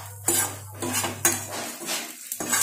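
Roasted makhana (fox nuts) stirred in a metal pan with a spoon, giving repeated scraping and clattering strokes in an uneven rhythm, close and fairly loud, with a low steady hum beneath.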